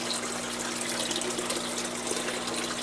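Water pumps run continuously in a basement tank setup, giving a steady rushing, bubbling wash of moving water with a low hum underneath, close and unbroken.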